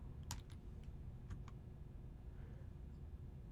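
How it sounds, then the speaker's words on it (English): A few quiet keystrokes on a computer keyboard as a router command is entered, faint taps in two small clusters over a low hum. "So I'm going to type IP DHCP and"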